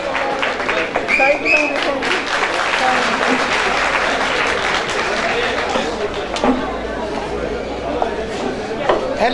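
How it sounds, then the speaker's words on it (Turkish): Sustained applause from a festival audience of folk poets and singers greeting a woman singer, a dense steady clapping wash mixed with crowd chatter that runs throughout without pause. "Coşkulu alkışlarımız lütfen dinlesin."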